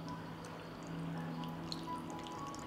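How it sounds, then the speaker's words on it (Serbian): Water poured into a glass jar over cabbage for preserving, a steady close liquid stream with light splashing and trickling throughout, no talking. "Sipat ću vodu u teglu."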